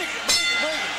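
A boxing ring bell in a Hector Camacho vs Tito Trinidad fight gives a single bright clang with a ringing tail, loud over crowd noise and commentary.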